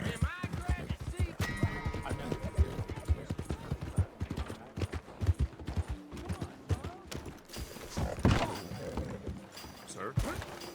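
Horse hooves clip-clop steadily in Red Dead Redemption 2 gameplay amid busy game sounds and clatter, fairly close with a continuous rhythm.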